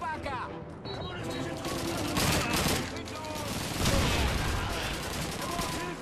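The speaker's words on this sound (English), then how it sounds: "is that an MG42? I think it is. I think it's an MG42." Dense, continuous MG42 machine gun fire in a Call of Duty 2 battle, loud rapid bursts layered with other gunfire and explosions throughout.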